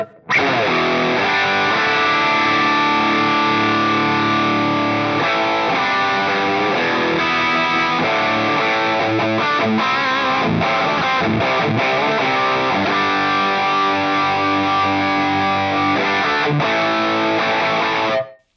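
An electric guitar played through a Fractal Audio Rat distortion model into a Fender-style amp, tone control set low, gives a thick, sustained, fuzzy overdrive of chords and riffs, loud and continuous with no talking.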